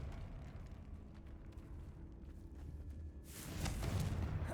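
A Confringo blasting spell goes off in Hogwarts Legacy, a sudden loud burst that rises out of low ambient rumble near the end and keeps roaring for about a second.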